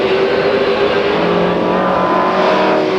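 A TVR Tuscan race car drives in a 1995 TVR Tuscan Challenge race, its engine a loud, close, sustained roar for the full three seconds, with no voices.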